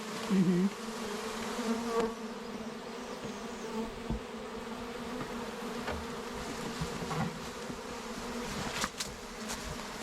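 Steady, close buzzing of a honeybee swarm humming together, continuous throughout with occasional louder passes of individual bees.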